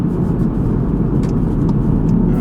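Cabin drone of a 2016 Volkswagen Golf R with DSG gearbox cruising, a loud steady low engine and road rumble with no breaks, heard from inside the car.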